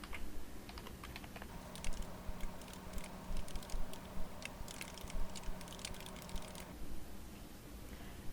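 Quick, steady typing on a computer keyboard entering text into a form field, close and fairly quiet, with bursts of light key clicks over a faint background hum until it stops near the end.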